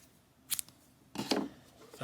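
Scissors snip through yarn after a crochet hat is finished, two quick close cuts, a short sharp one followed by a longer rustling snip, with no voice over them.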